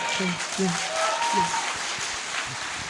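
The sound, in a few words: audience applause at a talk concert in Cheongju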